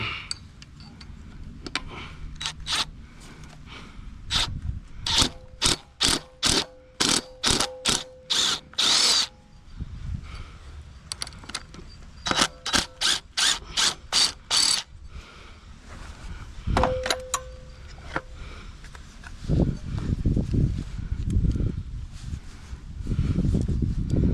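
A ratcheting tool backs screws out of a pancake air compressor during a teardown. Loud, close bursts of rapid clicking repeat several times, separated by pauses, clunks and handling noise, with no talk.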